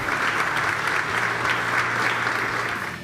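Warm applause from players and staff lining a corridor at a Flamengo training centre, steady clapping that rises and falls slightly in waves, fairly close and without talk.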